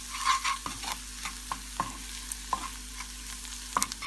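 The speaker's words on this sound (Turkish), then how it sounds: "Birkaç dakika karıştırıp altını kapatalım." Fried onions seasoned with cumin, black pepper, salt and chili powder are stirred in a pan for a potato börek filling, with a spoon scraping and tapping at an irregular rhythm over a steady low sizzle, close and fairly quiet.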